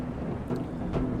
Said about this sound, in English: a high piercing sound that clashed against another clap of thunder as the rains continued to fall